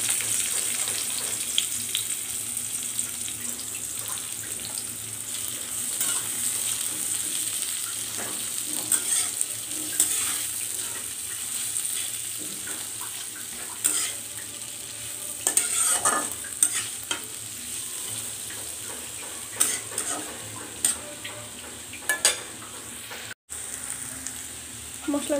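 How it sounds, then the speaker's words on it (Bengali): Chopped onions fry in a pan with spices, a steady close sizzle broken by frequent scraping stirs and clacks of a spatula, loud and continuous. "এখন আমি পেঁয়াজ কুচিগুলো দিয়ে দেবো।"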